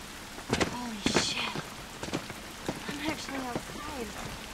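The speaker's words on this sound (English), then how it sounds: "This rain ain't gonna do us any good." Steady rain hisses in The Last of Us game world, a soft continuous wash beneath a voice and some scattered knocks and footsteps.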